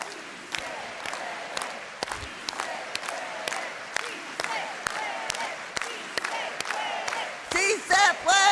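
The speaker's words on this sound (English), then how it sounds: "we're going to do an organized hand clap" A large crowd at a rally for public education claps in unison, a steady run of sharp, evenly spaced hand claps with chanting voices and cheers rising underneath, growing louder toward the end.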